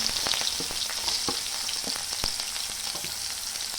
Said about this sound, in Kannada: ಈಗ ಹೆಚ್ಚಿಟ್ಕೊಂಡಿರೋಂಥ ಈರುಳ್ಳಿ ಹಾಕ್ತಾ ಇದ್ದೀನಿ